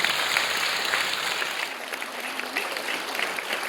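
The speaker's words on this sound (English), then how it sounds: "A round of applause, ladies and gentlemen, for Professor Silva." Audience applause at a girls' final results and awards ceremony, a steady wash of clapping from a crowd, even and sustained throughout with faint murmuring underneath.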